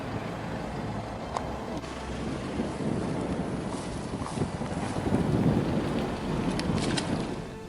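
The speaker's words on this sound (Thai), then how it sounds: "วันนี้ลมแรง" Strong wind blows across an open outdoor fishing pond, a continuous loud rushing roar with gusts buffeting the microphone and a few faint clicks and knocks scattered throughout.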